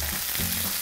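Beef burger patties fry in olive oil in a wide pan, giving a continuous even sizzle at close range with no voices.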